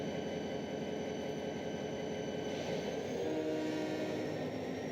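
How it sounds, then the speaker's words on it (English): A steady rumbling train in the video game Trainz 12 runs continuously with a sustained horn-like tone, even and moderately loud with no voices. "we are just going to have him drive the train out of here"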